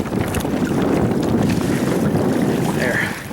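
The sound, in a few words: wind catching the sail of a Hobie Tandem Island sailboat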